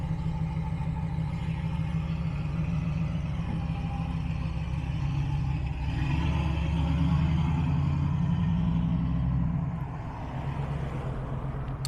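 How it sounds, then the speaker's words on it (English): A low, steady engine rumble idles continuously, close and even, with a slight swell in the middle before settling back. "It's a nice truck right here."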